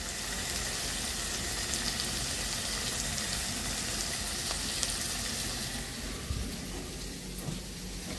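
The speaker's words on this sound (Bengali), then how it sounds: "জল দেব।" Water poured into a pan of crab curry hisses and sizzles in a steady, close wash of sound that softens slightly toward the end, with no voices.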